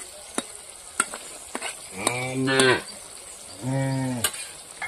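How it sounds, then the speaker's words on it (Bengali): Vegetable curry fries and is stirred in a pan, with a spatula scraping and tapping amid a soft sizzle, while a voice-like moaning tone rises twice in the background. "আস্তে আস্তে নাড়াচাড়া দিয়ে নেব।"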